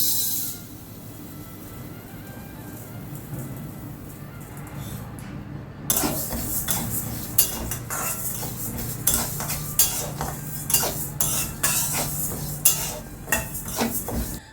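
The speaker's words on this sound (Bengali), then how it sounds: "এটাকে শুকনো কড়াইয়ের মধ্যে একটু নেড়ে চেড়ে নেব।" Sonamukhi moong dal being stirred and dry-roasted in a dry kadhai, a steady scraping rustle with a faint sizzle that turns busier and louder halfway through, with sharp clinks of the spoon against the pan.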